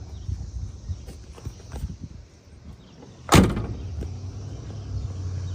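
A car door on a 1957 Chevy Bel Air swings shut with a single solid, close thump, followed by a faint low idle-like rumble in the background.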